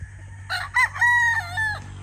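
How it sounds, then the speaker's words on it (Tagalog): A rooster crows once, loud and close, a single drawn-out call with no other sounds around it. "Tumitilaok."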